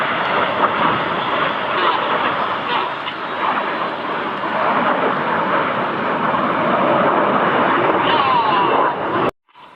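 Red Arrows jets pull up in an aerobatic manoeuvre at the Midlands Air Festival, a loud, sustained roar of jet engines filling the air for several seconds before it cuts off abruptly.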